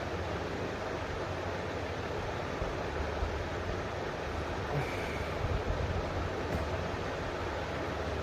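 A running train gives a steady, dense rumble and rattle that fills the whole stretch, with no clear breaks or voices.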